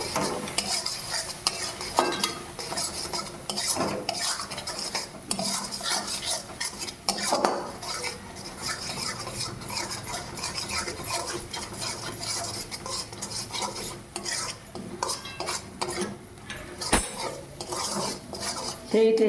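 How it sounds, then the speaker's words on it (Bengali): Spatula scraping and clattering in a pan as masala with chili powder is stirred and sautéed for matar paneer, irregular metallic knocks over a soft sizzle, no talk. "ভালো করে কষিয়ে নেব"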